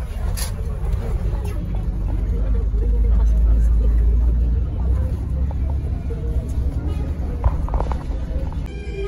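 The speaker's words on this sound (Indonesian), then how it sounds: "Oke, bis sudah keluar dari terminal." A crowded bus pulls out of the Purabaya bus terminal, heard as a loud low engine rumble that swells and holds, with passengers talking inside and scattered knocks and rattles.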